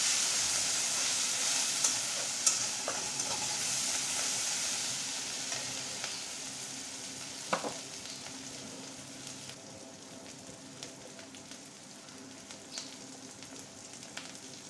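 Ginger-garlic paste and spices fry in a pan with a soft, even sizzle that slowly fades, marked by occasional clicks and stirring taps; no talk.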